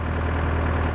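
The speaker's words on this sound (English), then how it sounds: "That's the sound of what a properly adjusted track will sound like." A mini excavator runs on properly tensioned tracks, heard as a loud, steady, low engine drone close by, with no popping or grinding.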